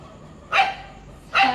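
Dogs near a house bark twice, with two short, sharp barks about a second apart, fairly close and clear against a quiet background.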